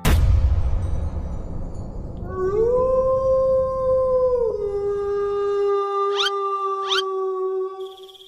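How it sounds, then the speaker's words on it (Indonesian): A lone wolf howls in a village at night: a long rising, sustained tonal howl that bends downward, followed by a couple of short yelping rises, fairly close and clear against quiet surroundings. "Ada suara serigala"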